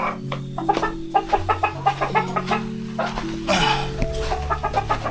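Hens cluck on an organic hen farm around feeding time. Several birds give rapid, overlapping clucks close by, with a continuous busy flock murmur and no talk.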